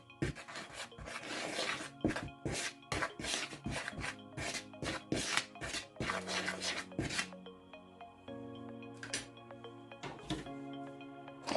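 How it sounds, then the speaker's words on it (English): Hard butter is grated against a metal grater for Jamaican patty dough, a close, rhythmic series of scraping rasps with a faint hum continuing after the strokes stop. "I'm grating my butter because I've tried this recipe many times"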